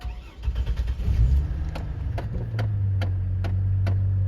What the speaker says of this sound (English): when I start the car, it should idle sort of high now